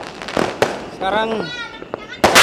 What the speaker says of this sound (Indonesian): di seluruh penjuri di Makassar ini terdengar suara petasan yang menggema.